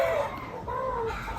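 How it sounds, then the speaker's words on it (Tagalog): Chickens cluck and murmur nearby in a short, steady run of fowl calls over a low outdoor background. "Nag-ingay na yung mga manok."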